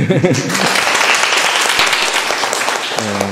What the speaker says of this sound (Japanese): 皆さん拍手。